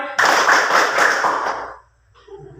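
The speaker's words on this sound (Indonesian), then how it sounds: "Tepuk tangan 3 kali, 1 kali." A classroom of students claps hands together in a counted pattern, a dense burst of loud, overlapping claps lasting about a second and a half, then stopping abruptly, followed by quiet and a faint voice.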